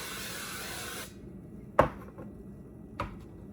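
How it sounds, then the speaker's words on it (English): Cooking spray hissing from a can into an air fryer basket, a steady broadband spray for about a second before cutting off, followed by two sharp clunks of handling. "I'm going to go ahead and spray with my cooking spray"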